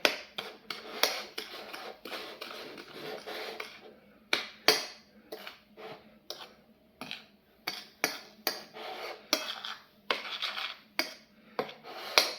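A metal utensil clinks and taps repeatedly against a bowl while plain flour and breadcrumbs are mixed together for coating fish, with irregular bright knocks, close and fairly quiet.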